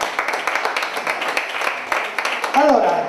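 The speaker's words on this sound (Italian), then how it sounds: "Un applauso all'artista Bruno Catanzaro." A room of dinner guests breaks into steady applause for the artist Bruno Catanzaro, dense clapping sustained throughout with a voice rising near the end.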